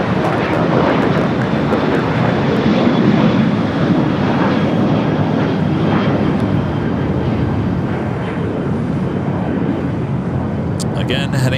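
A jet airliner takes off at Los Angeles International Airport, its engines a loud, steady broadband roar that holds for the whole stretch, with faint voices mixed underneath.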